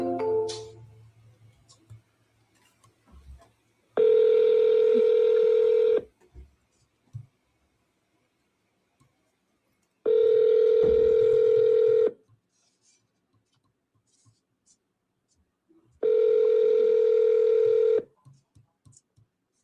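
A phone rings out in loud, steady tone bursts about two seconds long, repeating three times with silent gaps between, preceded by brief faint dialing blips.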